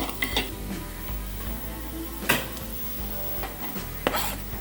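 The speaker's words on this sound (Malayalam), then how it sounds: "പച്ചമണം മാറണം അതുവരെ നമ്മൾ ഒന്ന് ഇളക്കുക." Masala frying in a pan is stirred briskly, its steady sizzle punctuated by sharp spoon scrapes and knocks against the pan at irregular intervals, close and clear.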